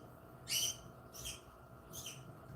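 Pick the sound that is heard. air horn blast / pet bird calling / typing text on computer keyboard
pet bird calling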